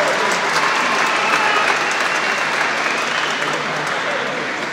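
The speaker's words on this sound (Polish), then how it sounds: "Duże brawa." An audience at a speedway team presentation event applauding, a dense, steady wash of clapping from many hands that holds at full strength for several seconds.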